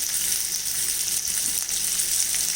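Sliced onion frying in a pan for poha upma, a steady, even sizzle close by with faint stirring, no talking.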